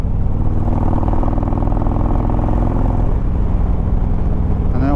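Harley-Davidson motorcycle engine in sport ride mode, running loud and close with a steady, throbbing rumble held throughout, faintly rising toward the end.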